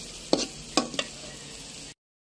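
New potatoes frying in a pan, a steady sizzle with a few sharp clanks of a spoon stirring against the pan, ending abruptly.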